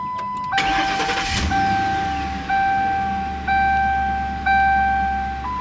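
A 2011 Ford Crown Victoria with about 100,000 miles cranks and fires up loudly and close, then settles into a steady idle while a warning chime beeps repeatedly over it.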